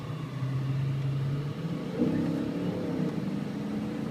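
A 1995 Mercedes-Benz S500 accelerates from a pull-out, its steady engine drone rising in pitch and loudness partway through, heard close from inside the car.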